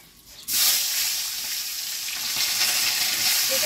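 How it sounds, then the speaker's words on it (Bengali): A fish head rubbed with salt and turmeric drops into hot mustard oil with whole cumin seeds and bursts into a loud, close sizzle that holds strong and steady after the sudden start. "মাছ ভাজার একটা চচ্চর আওয়াজ পাওয়া যায়"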